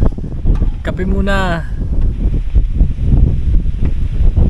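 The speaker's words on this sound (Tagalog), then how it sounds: "Iba kasi yung hampas ng hangin dito" Strong cold wind roars and buffets the microphone throughout at a campsite at Marci's Point, Tanay, Rizal, with a person speaking briefly near the start over the blustery noise.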